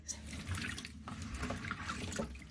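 Running water from a kitchen tap rinses starch off freshly cut potatoes for French fries, a steady close rush and splash with no talking.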